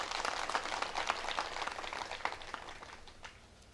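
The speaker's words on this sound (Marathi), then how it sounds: "गावकऱ्यांनी जोरात टाळ्या वाजून अभिनंदन करा" Villagers clap together at a village gathering honouring Ahilyabai Holkar. The applause is a fairly quiet, dense patter that swells early and then slowly thins and fades away.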